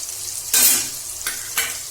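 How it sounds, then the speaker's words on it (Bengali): A spice paste of turmeric, cumin and coriander powder sizzles in a kadai with tomato and peas, as a few sharp bursts of frying mark each stir over a low hiss. "সেটা দিয়ে কড়াইটা একটু নাড়তে থাকবেন"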